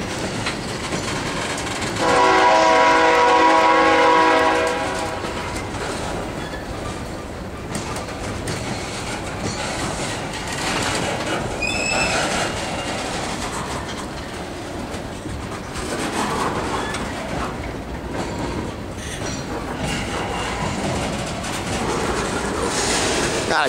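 CSX freight train Q464 rolling past, opening with a loud sustained horn blast, then a long steady rumble of wagons with rhythmic clickety-clack on the rails.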